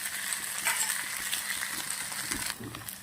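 Sago and potato khichdi fries in a pan with a steady sizzle throughout. A spoon stirs and scrapes the pan at close range, with no voices.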